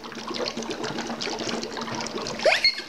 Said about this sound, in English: These are bubbles full of fog, full of carbon dioxide.